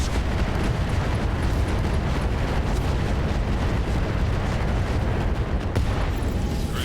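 Mechs blown apart in the RogueTech battle game, a continuous heavy roar of explosions and rumbling booms that fills the whole stretch at steady loudness.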